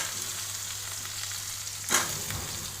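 Potatoes frying in a pan after salt and a little turmeric are added, a steady soft sizzle with a brief louder burst of spitting oil near the end, no voices.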